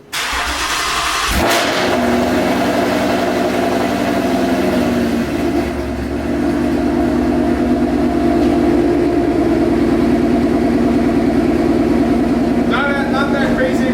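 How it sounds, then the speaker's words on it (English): A modified Ford Mustang GT V8 with a 10R80 transmission barks loudly to life on a cold start, then settles into a steady, rumbling, close-up idle with a deep, even drone; a brief burst of other sounds appears near the end. "Time to cold start this thing."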